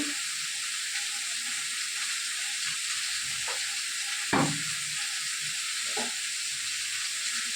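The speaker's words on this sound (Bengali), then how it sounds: "আর এখানে চাল কুমড়ো ভাজা বসিয়েছি" Ash gourd fries in oil in a wok with a steady, dense sizzle throughout, broken by a few soft stirring scrapes and one sharper clatter midway.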